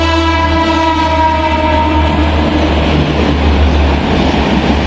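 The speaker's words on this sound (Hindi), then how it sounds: "ये अपनी निकलते हुए आनंद विहार से नई दिल्ली की तरफ हावड़ा राजधानी" Howrah Rajdhani Express pulling out of Anand Vihar station toward New Delhi, a loud, steady rumble of the passing train with sustained harmonic whine and rolling wheel noise close by, no voices.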